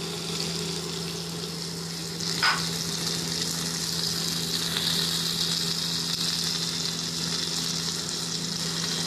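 Onion and mushrooms fry on a grill with a steady low sizzle, faint and constant, broken by one brief clink near the middle and no speech.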